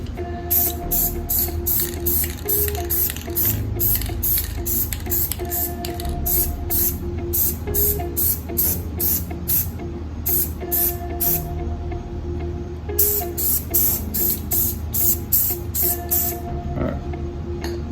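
Spray paint hissing onto Hyundai Tucson emblems and grill in a long run of short, close, loud bursts with brief pauses between them.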